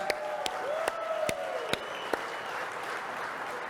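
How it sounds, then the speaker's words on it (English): Audience applause at the Mopar SEMA presentation, a steady mass of clapping with a few sharp louder claps and whoops mixed in, sustained at moderate level throughout. "Let's give a round of applause to Joe and his team."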